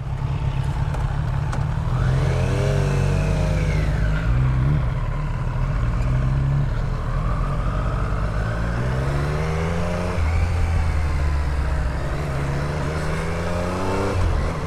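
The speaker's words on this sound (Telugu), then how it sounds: "ఆఫ్ రోడ్లో భలే డ్రిఫ్ట్ అయినాయి కార్స్, అయితే అన్నీ కూడా రియర్ వీల్ డ్రైవ్స్, ఇంకా ఫోర్ వీల్ డ్రైవ్స్ ఉండే" Rear-wheel and four-wheel drive sports cars rev hard and drift on an off-road course at a college event, engines roaring loudly and continuously with repeated rising and falling revs, close and dominant throughout, with no talk.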